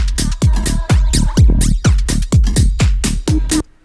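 A DJ mix in Ableton runs through a flanger, giving a loud, punchy four-on-the-floor drum loop a swirling, comb-filtered shimmer before it stops abruptly.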